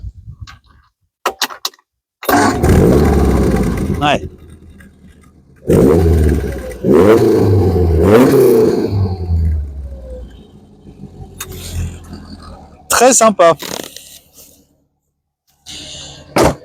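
A 1965 Lotus Elan S2 engine cranks and catches, then runs in loud bursts and idles close by, with short pauses between runs and brief talk in between.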